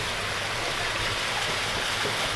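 Rushing water around a launch boat crossing to Mayapur during flooding, a loud continuous wash with a low engine-like rumble beneath, no voices.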